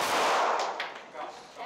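A gunshot fired during a firearms session at a shooting range in Brazil: one sharp report near the start, then further fainter cracks and echoes decaying over the rest of the clip.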